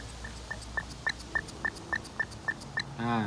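The carburetor primer bulb of a four-stroke crop sprayer engine is squeezed over and over, each squeeze giving a short squeak in a quick, even rhythm, about ten times in a row.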